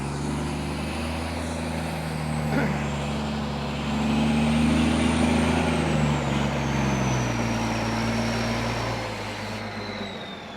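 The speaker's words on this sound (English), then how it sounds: "One truck is coming right now, actually." A dump truck arriving at a construction site, its engine droning steadily and swelling louder as it nears, with air-brake hiss and faint high whining tones, and no one talking.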